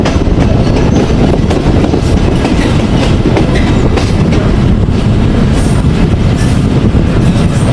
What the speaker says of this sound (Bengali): আর ট্রেন সাপের মতো এঁকে বেঁকে চলছে